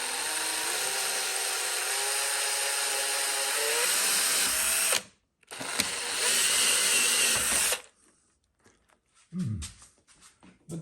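Power drill driving a large hose clamp tight while building stair railings, a loud steady whir in two long runs with a short gap, then falling quiet apart from scattered small clicks and handling noises.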